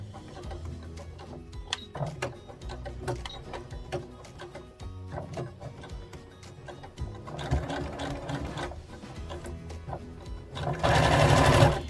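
A sewing machine topstitches along a hoodie seam, a continuous close rattling hum that runs unevenly and grows louder and faster near the end.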